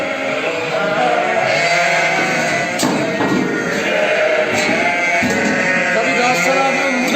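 Sheep and lambs on a large farm bleat over and over, ewes and lambs calling to find each other, a dense, close chorus of overlapping cries that fills the pen.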